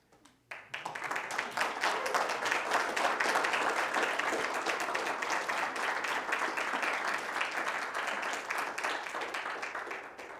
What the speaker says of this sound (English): Now, I know you're all applauding because I finished in an hour.